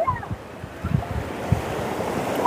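Ocean surf washing onto a hot beach, a steady rushing wash with a few low thumps of breaking water and wind noise buffeting the microphone throughout.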